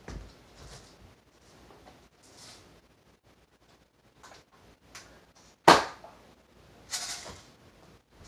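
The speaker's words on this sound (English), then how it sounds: "Let me expel this bullet safely because this thing has 8 pumps right now." A Crosman Legacy 1000 pump air rifle, pumped eight times, fires once with a single sharp, loud crack partway through. Quiet handling rustles and small clicks come before it and after it.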